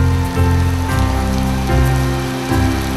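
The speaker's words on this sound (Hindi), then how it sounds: "गुरुवार रात से ही हो रही बारिश थोड़ी देर के लिए थमी, लेकिन दोपहर होते होते मूसलाधार बनकर गिरने लगी" Heavy, steady downpour during a hailstorm in North India, loud and close, a dense continuous wash of rain with slow swells in intensity throughout and no voices.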